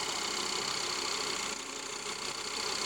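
A Toyota MR2 AW11 engine idles steadily with fresh oil, plugs and filter, a continuous mechanical hum with a faint rhythmic tick, heard up close and alone.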